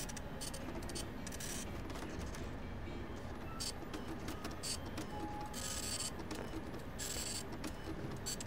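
Steady mechanical whirring and rattling like a printer runs continuously at a low, even level, with faint clicks and hiss throughout, in the video game Five Nights at Freddy's 6.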